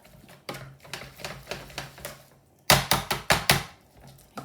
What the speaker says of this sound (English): Another good mash.